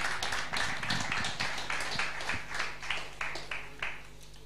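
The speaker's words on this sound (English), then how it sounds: "A round of applause, please." Audience clapping at a university convocation ceremony, a steady patter of many hands at moderate distance with repeating swells, no voices over it.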